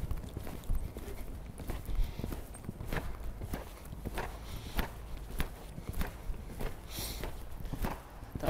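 Horse hooves clip-clop in a steady walking rhythm on an arena surface during high-level dressage training work suppling the shoulders, with soft ambient noise and no talking.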